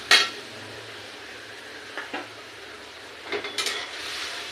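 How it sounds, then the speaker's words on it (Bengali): A paste of onion, garlic, ginger and chili sizzles gently in a pan with turmeric, with a low frying hiss broken by a few sharp clinks and scrapes of a spoon stirring against the metal. "দেখুন এটাকে আমি অল্প ভালো করে ভাজা করে নিচ্ছি।"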